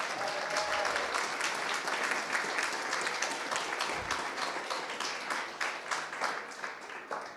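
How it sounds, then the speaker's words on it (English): A community dinner crowd at a neighborhood planning assembly gives a warm round of applause for volunteers, steady moderately distant clapping that continues evenly throughout. "we want to have a huge round of applause for our volunteers"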